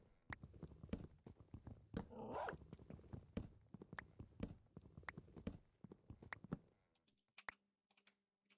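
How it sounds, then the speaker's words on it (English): Wolf or dog barks in Minecraft: a string of short, sharp yaps at irregular intervals, fairly close, with light clicking between them and a sparser final few seconds. "I don't really like the new dog noises or wolf noises"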